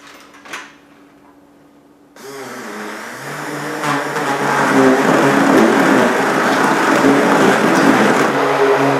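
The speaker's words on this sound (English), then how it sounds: "Just going to blend it up. I prefer to use a hand blender." After a brief knock and a quiet pause, a hand blender starts up and whirs loudly and steadily through a weight gainer shake, its motor pitch shifting slightly as it runs.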